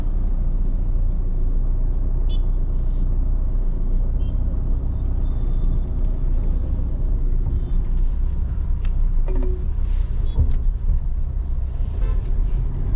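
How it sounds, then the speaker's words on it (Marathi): Cars, trucks and buses from the Mumbai direction pass on a road near Mangaon, heard as a loud, continuous low rumble of traffic with occasional sharper hisses and clatters as vehicles go by. "इकडनं मुंबईवरनं गाड्या येत आहेत मानगाव साईडनी."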